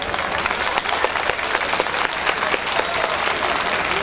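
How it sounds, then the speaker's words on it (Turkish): Dense, steady applause from an audience at a regional cultural days stage show, loud and continuous for the full stretch with no break or voice on top. "Kıymetli alkışlarınızı esirgemeyiniz efendim lütfen."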